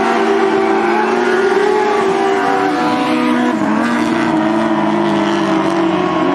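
ASCS sprint cars race at Southern Oregon Speedway, engines snarling in a loud, continuous drone with shifting pitch as cars pass and hold the throttle, several machines blending into one sustained roar.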